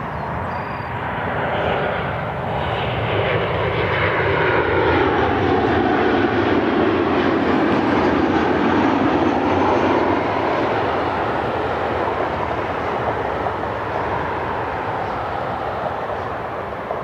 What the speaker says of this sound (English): Delta 2750 inbound from Atlanta is the next inbound flight